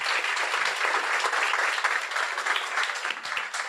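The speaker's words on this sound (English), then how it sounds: "A warm round of applause for the training team." Warm applause for a dog training team at an on-campus graduation ceremony, a dense steady wash of clapping from the audience that keeps up through the whole stretch.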